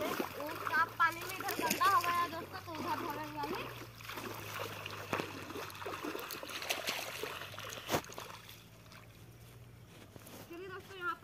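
Water splashes and sloshes as small freshly caught fish, including chorka, are rinsed in village water, with intermittent splatters under frequent nearby talking.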